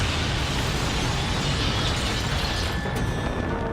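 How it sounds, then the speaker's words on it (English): A huge meteor impact explosion: a dense, sustained roaring blast of rumbling noise with crackling, grinding debris, loud and unbroken throughout. "Because it's an incredibly strong explosion."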